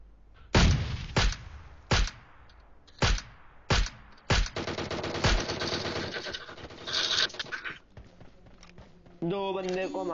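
Video game gunfire sounds as several sharp, loud, close shots spaced a second or so apart, then a denser rapid burst, with a voice talking at points.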